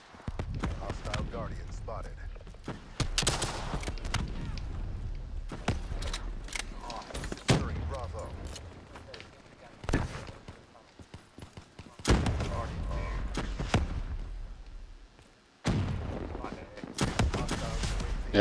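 Bursts of video game gunfire crack in irregular clusters with pauses between them, loud and punchy, while players talk over the shooting at times.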